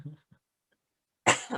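A single harsh cough, loud and close, follows a brief murmur and a moment of near silence.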